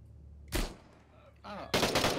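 Gunfire in a co-op FPS video game, two sharp loud shot bursts, the second longer and denser, with a quieter mid-range sound between them.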